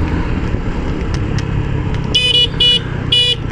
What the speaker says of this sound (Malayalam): ഇതാണ് ഹോൺ. ഹോണിൻ്റെ സൗണ്ട് ഇതാണ്.